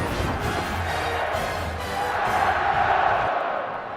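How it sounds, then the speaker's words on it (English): A big college football stadium crowd roars during Oklahoma at West Virginia, a loud, sustained wall of cheering that swells and then eases slightly toward the end. "All of a sudden, this crowd has come alive, down 10."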